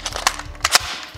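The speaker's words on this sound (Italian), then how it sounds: "è un piccolo petardo che esplode" A budget spring airsoft replica with a metal body fires, giving a couple of sharp, small cap-like pops close by amid light handling clicks.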